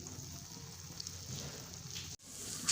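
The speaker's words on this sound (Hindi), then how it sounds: "अब हम इसके ऊपर बकाया एग की कोटिंग करेंगे और इसे बिल्कुल स्लो फ्लेम पर अच्छी तरह से फ्राई होने देंगे।" Bread slices coated in egg fry in a pan over a very low flame, giving a steady, soft sizzle and crackle that runs throughout at moderate closeness, briefly cutting out near the end before resuming.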